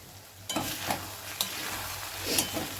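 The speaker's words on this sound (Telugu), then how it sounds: "పసుపు వేసుకొని కలుపుకోవాలి." Turmeric stirred into potatoes frying in a pan for a simple aloo fry, with a steady sizzle and a few distinct scraping stir strokes close by, no talking.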